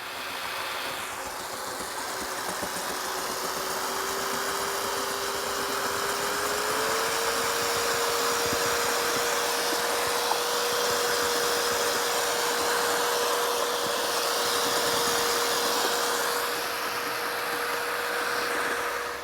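A power mixer whirs steadily while blending Skraffino White Fine resurfacing material tinted charcoal suede for a pool deck, a continuous motor drone whose pitch steps up partway through and then holds, close and alone.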